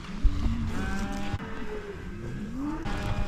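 Cattle moving along a creek property, with low lowing moos and harmonic calls rising and falling over steady outdoor noise, close and fairly loud, no talk.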